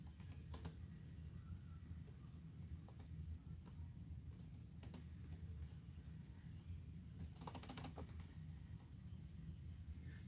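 Typing on a computer keyboard, soft scattered keystrokes with a brief quick burst of clicks near the end, faint over steady background hiss.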